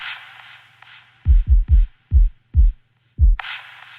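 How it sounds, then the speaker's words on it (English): A remixed hip-hop beat by Sikky Beats, with a thin, radio-speaker-style midrange layer carrying delay that fades out, then a series of deep, punchy kick thumps before the filtered layer returns. "I used some EQ just to cut the low end here to make it sound a little bit like it's on a radio"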